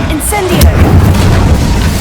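A fiery Incendio spell cast in Hogwarts Legacy, a deep booming burst with low rumbling fire continuing for about two seconds amid game sound effects.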